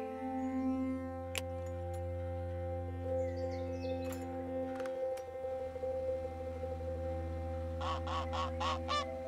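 Goose honks in a Zoo Tycoon–style zoo management game, a burst of several rapid calls near the end over a steady droning game soundtrack.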